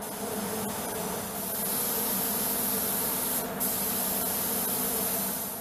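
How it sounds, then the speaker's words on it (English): A spray gun applies stealth coating to an F-35 fighter jet, giving a steady, loud, continuous hiss that holds evenly throughout with no speech. "The stealth coating process involves meticulous work under specific conditions to ensure"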